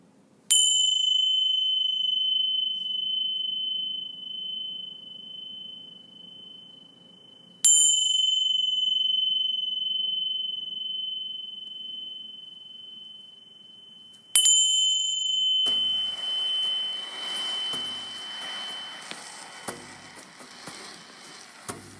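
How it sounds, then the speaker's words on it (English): Meditation bells strike three times at even intervals, each a clear ringing tone that rises sharply and then fades slowly in a quiet room before a voice begins speaking. "I'll ring the bells to begin and to conclude."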